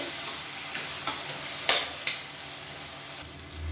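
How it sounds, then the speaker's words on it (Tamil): Tomatoes sauté in a pan on a medium flame, a soft continuous sizzle broken by several sharp spatula taps and stirs, the loudest near the middle. "மீடியம் ஃப்ளேமில் வதக்கி விட்டுக்கலாம்."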